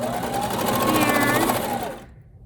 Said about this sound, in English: I'm going to use my cover stitch machine to sew that flap down